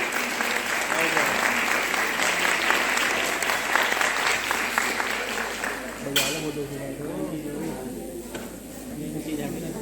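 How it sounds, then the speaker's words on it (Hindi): A seated audience at a talk on preventable cancers breaks into sustained, fairly loud applause that fades off after about six seconds, with a voice speaking over the tail. "मधु गुप्ता जी, सब लोग तालियों से आपका स्वागत करें।"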